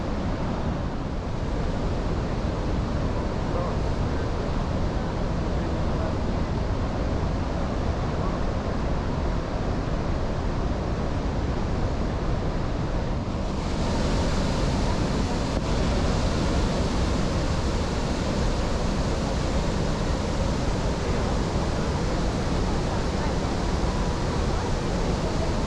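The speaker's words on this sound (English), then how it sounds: "The river levels were very high and the waterfalls were at some of their strongest flows in years." A steady, powerful roar of rushing water from Iguazu Falls, Brazil, at high flow, fills the whole stretch, loud and continuous without a break.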